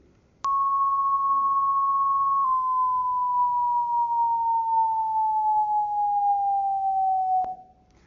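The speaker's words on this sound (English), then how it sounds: "Now the descending tone F2." A pure sine tone in an auditory illusion demonstration, starting abruptly, holding steady briefly, then gliding slowly downward in pitch for several seconds before cutting off, loud and clean with nothing else present.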